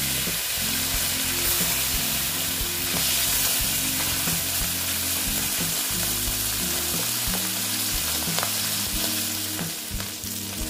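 Several bata fish crackle and spit in a pan of hot oil, a dense, close, continuous sizzle that holds level throughout with no voices.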